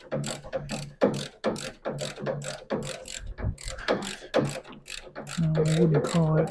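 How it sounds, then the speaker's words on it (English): A ratchet wrench removes bolts during a full MG Midget restoration, making rapid, close clicking strokes in repeated bursts. Voices talk faintly underneath and more clearly toward the end. "Removing bolts, really?"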